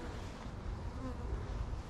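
Honeybees buzzing around a beehive in Alaska during a late-season hive check, a steady close drone of many insects filling the clip with no pauses.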